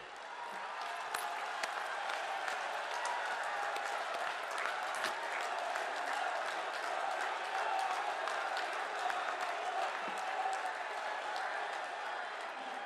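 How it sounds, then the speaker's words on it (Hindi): Large rally crowd in Moradabad applauding and cheering to welcome the Prime Minister, a dense, steady wash of clapping that holds at full strength throughout, with faint voices and crowd noise mixed in. "अपने स्थान पर खड़े होकर प्रधानमंत्री जी की जोरदार तालियों के साथ स्वागत करें"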